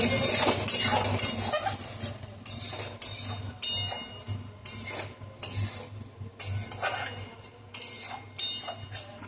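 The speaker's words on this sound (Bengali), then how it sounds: "সব মশলাগুলো দিয়ে এবার ভালো করে কষানো হচ্ছে।" Turmeric, chilli powder and cumin powder are stirred and sautéed in a pan, with loud close clinks and scrapes of a metal spoon against the pan in irregular bursts over a light sizzle.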